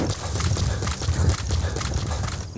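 Rapid hoofbeats of a galloping horse in Metal Gear Solid V: The Phantom Pain pound steadily over a dense, noisy background, fairly loud and continuous throughout.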